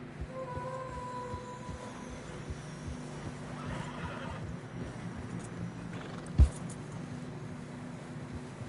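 Horses whinny with drawn-out, wavering neighs over a low rumble and scattered hoof-like thumps, plus one sharp knock near the end, as they struggle through deep fresh snow in the video game Red Dead Redemption 2.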